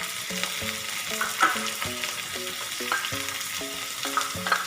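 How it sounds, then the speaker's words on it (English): Vegetables and Schezwan sauce sauté in a pan with a steady sizzle, punctuated by rhythmic scraping and clacking of a spatula stirring, close and without talk. "add the vegetables and saute it for 3 minutes"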